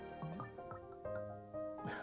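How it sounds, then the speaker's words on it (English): Jack Daniels Single Barrel whiskey poured from the bottle into a glass, giving quiet glugging and gurgling pulses with rising ringing tones, close and soft. "And we're gonna give it a pour."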